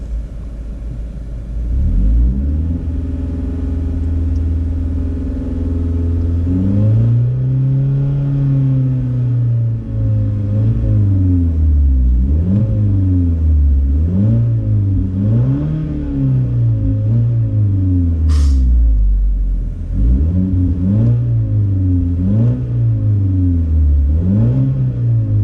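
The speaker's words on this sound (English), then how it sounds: "just rev it a few times" A car engine idles, then revs up and down repeatedly in rising and falling sweeps, loud and close, with brief pauses between bursts.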